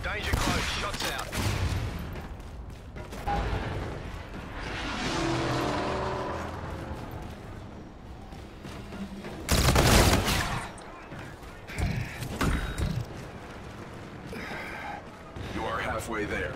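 Gunfire and explosive blasts from the video game Call of Duty: Infinite Warfare in bursts over a continuous rumbling game soundtrack, with game voices talking over the action.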